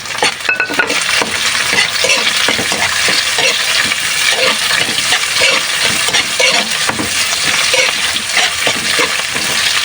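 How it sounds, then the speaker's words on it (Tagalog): Onions and garlic sizzling loudly in a hot pan, a dense continuous hiss broken by the scrape and clink of a utensil stirring them nearby. "Haluin lang natin ng konti."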